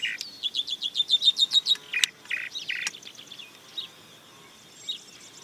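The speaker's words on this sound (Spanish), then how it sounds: "No es muy común la observación del chororó." Great antshrike (chororó) calling in Argentina: a rapid accelerating series of about a dozen loud, clear notes, followed by a few scattered chirps fading out.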